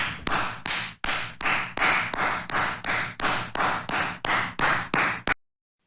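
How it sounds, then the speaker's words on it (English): A single person applauds with about fifteen slow, evenly spaced claps. Each clap is crisp and close with a short ring after it, and silence follows the last one. "Pardon me while I stand and applaud."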